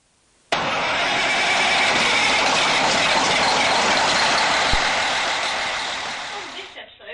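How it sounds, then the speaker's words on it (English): A Mack Titan 3-axle heavy haul truck with a Mack MP10 605-horsepower engine starts abruptly and holds a loud, steady, rumbling engine roar up close, tapering off slightly toward the end. "I brought along this, the Mack Titan 3-axle"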